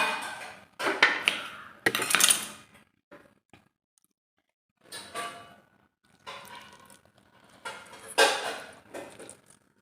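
A lid goes onto a pan of Kerala-style crab roast with lime juice squeezed in. Several short metallic clatters and knocks of lid against pan come in bursts with quiet gaps between them.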